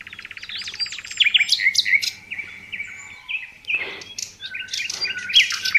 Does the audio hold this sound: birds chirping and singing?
yes